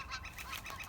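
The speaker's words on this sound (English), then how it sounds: "few calls from the flicker woodpecker, one of our medium-sized woodpeckers" A medium-sized flicker woodpecker gives a quick series of faint, repeated calls from trees, the evenly spaced notes sounding distant and thin in an otherwise quiet woodland.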